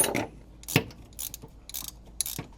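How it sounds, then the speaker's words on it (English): The distributor of a 1960 Triumph TR3A is tightened by hand with a ratchet, giving a few sharp, close clicking bursts separated by short pauses in a quiet garage. "But I'm gonna tighten the distributor now."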